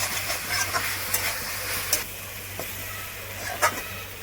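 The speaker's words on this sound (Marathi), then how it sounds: "फ्राय केलेली फुलगोबी, आता चांगली परतून घेऊया." Fried cauliflower tossed in a pan for gobi chilli, a soft continuous sizzle with occasional sharp clicks and scrapes of the spoon, fairly quiet and close.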